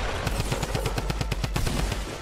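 Rapid automatic gunfire in the Fortnite video game, a steady burst of about a dozen evenly spaced, close and loud shots with no talking.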